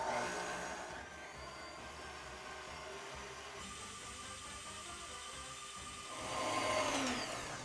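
An electric hand mixer whips cream in a bowl with a steady, close motor whir that shifts in pitch midway and swells louder near the end.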